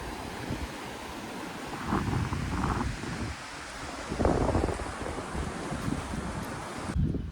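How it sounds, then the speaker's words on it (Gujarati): Cold wind blowing across a hilltop temple, a steady, fairly faint rushing buffeting the microphone in gusts, with no talking. "પવન પણ બહુ ઠંડો ઠંડો આવે છે"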